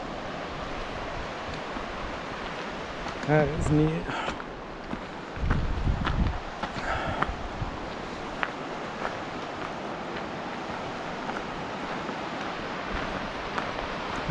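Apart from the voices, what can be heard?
Baker River water flowing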